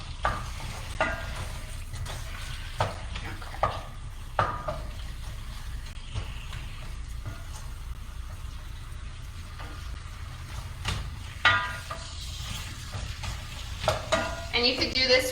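Zucchini sautéed in a skillet for a Mediterranean summer pasta, with a continuous sizzle under repeated spoon scrapes and stirs at an uneven pace throughout.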